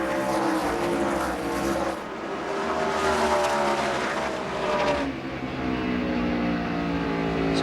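NASCAR Busch Series stock cars racing at Indianapolis Raceway Park in 2004, loud engines roaring past with rising and falling pitch as cars sweep by, a continuous layered drone of several cars close to the track.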